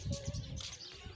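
Pigeons perched on a rooftop give a short, soft cooing call at moderate distance, brief and unaccompanied by speech.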